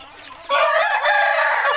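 A rooster crows loudly and close by in the morning, one long drawn-out call that starts suddenly after a brief quiet moment.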